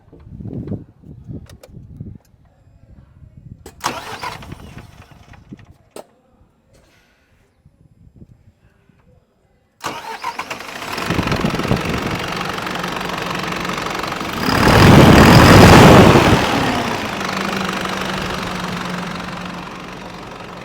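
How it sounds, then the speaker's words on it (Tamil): Container-carrying face cowl truck engine starting up after a quiet stretch, then settling into a steady, loud idle with a knocking diesel rumble and a brief rev midway. "இந்த வண்டியோட இன்ஜின் சவுண்டு வந்து எப்படி இருக்குது அப்படின்றத நம்ம கேட்கலாம்"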